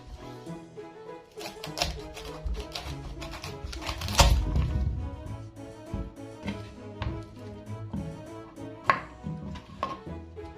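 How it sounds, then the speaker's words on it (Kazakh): Cauliflower and broccoli cut with a knife on a board, a run of sharp, irregular close knocks and taps with one heavier thud midway. "гүлді қырыққабатымызбен брокколиді турап аламыз."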